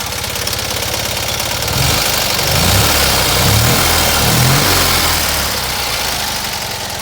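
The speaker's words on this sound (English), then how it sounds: "Give it a rev. You can see how it runs." A Fiat 126p engine idles steadily, then revs up in several throttle blips around the middle before settling back to idle, close and fairly loud with no voices.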